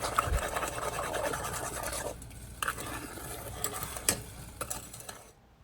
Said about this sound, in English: Then stir to combine while you have your pot heating over medium-high heat.